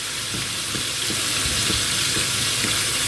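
Basil leaves frying in oil in a pan give a steady, continuous sizzle and crackle at moderate level throughout, with no talk over it.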